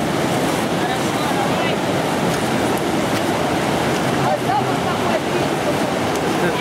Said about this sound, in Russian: Ледяная река горная.